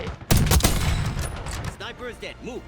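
Bursts of rapid old-era gunfire in Call of Duty: Black Ops 6 crack loudly up close, then a voice talks over lingering shots and background noise.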